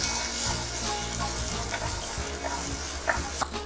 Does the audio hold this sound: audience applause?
no